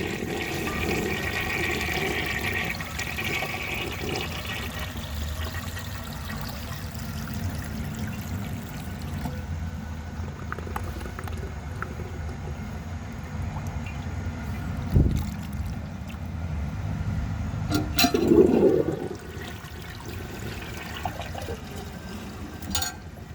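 A 1930 Eljer toilet flushes with rushing, gurgling water, a louder surge of draining partway through before settling into a quieter trickle, with too little water to clear fully.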